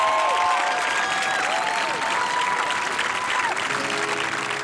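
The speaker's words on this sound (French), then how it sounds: "Je vais vous demander de faire un tonnerre d'applaudissements pour notre premier artiste" Studio audience applause for a first artist on a French music battle show, a dense, loud, sustained wash of clapping and crowd noise with faint whistled or sung tones drifting over it.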